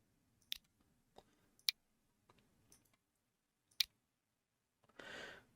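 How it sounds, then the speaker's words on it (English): A computer mouse clicks sharply several times at irregular intervals in a quiet room, single crisp taps spaced apart, then a brief rustle at the end. "am I clicking on the wrong thing there?"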